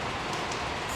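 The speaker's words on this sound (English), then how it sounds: "You don't want to go out there, it's pissing rain." Heavy rain falls steadily outside a workshop, a dense, even hiss of drops on surfaces that continues without a break throughout.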